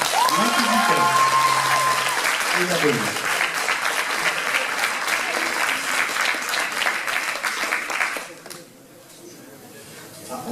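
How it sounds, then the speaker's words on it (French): Loud, sustained applause from an audience at a cosplay parade in Dijon greets the group Apocalypse World, dense clapping filling the room for about eight seconds before dropping away sharply, with some voices mixed in. "On les applaudit bien fort."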